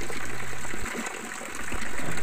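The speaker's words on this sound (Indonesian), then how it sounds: "pada bagian payudaranya terdapat pancuran yang mengalirkan air" Water flows from a stone fountain spout at Candi Belahan, the Sumber Tetek temple in Gempol, Pasuruan, as a steady close gushing splash that dips briefly in the middle before returning at full strength.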